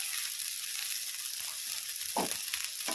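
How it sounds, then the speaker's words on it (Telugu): Precooked Kurnool Sona Masuri rice sizzles in a hot pan for veg fried rice, a steady close frying hiss with a couple of brief stirring scrapes near the end. "నేను ముందుగా వండి పెట్టుకున్న రైస్ అండి, ఇది బాస్మతి రైస్ కాదు, ఓన్లీ కర్నూలు సోనా మసూరి రైస్ ఇందులో వేసేసుకుంటున్నాను"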